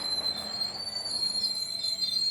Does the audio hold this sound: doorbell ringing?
no